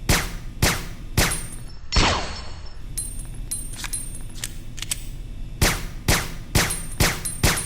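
A silenced handgun fired in Resident Evil: Dead Aim, crisp suppressed shots in a steady, fairly slow rhythm, each with a faint metallic click, close and clear with no talking.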